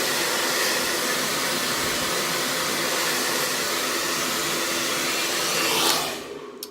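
A hair dryer blows steadily and loudly on a fringe, a constant close whoosh for several seconds before it winds down and cuts off near the end, with no talking.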